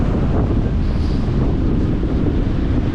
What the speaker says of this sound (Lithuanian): Vėjas žiaurus. Visiškai prieš vėją.